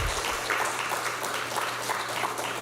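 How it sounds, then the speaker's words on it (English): Attendees at a diabetes symposium give a sustained round of clapping, dense and even at moderate loudness, over a faint low hum, before cutting off abruptly after a couple of seconds. "So then you all should give yourself a round of applause"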